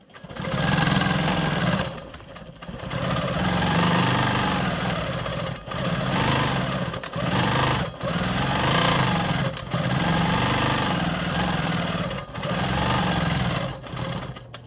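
A sewing machine stitches a star quilt block in a series of fast, whirring runs of a few seconds each. Short pauses separate the runs, and the machine sounds close and busy.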